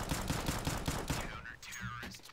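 Rapid gunfire in CS:GO, a close, loud burst of about ten evenly spaced shots in the first second and a half, followed by quieter game sounds and a short tonal ring.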